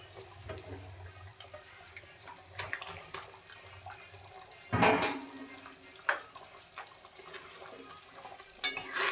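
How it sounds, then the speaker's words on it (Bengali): Prawn malai curry made with coconut milk and cow's milk simmering in a pan, with a soft steady bubbling hiss broken by a few nearby clanks and scrapes of a utensil, and no speech. "আরও দশ মিনিট এটা ফুটবে"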